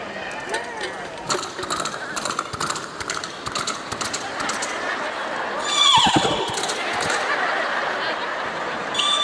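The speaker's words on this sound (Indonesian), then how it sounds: "Masa kan ada suara kuda?" A horse whinnies, with a sharp rising-and-falling neigh cutting in midway over a background of murmuring voices and clattery mechanical noise during an Islamic lecture gathering.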